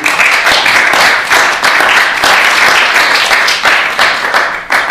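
A lecture audience applauds loudly and continuously in dense, steady clapping that carries through to the end, with no speech over it.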